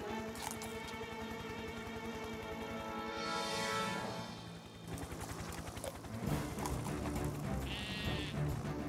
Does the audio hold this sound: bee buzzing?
no